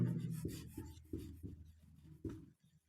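Chalk scratches and rubs across a classroom board as a teacher writes, a run of short strokes and taps in an uneven rhythm, close and fairly soft, with no talking.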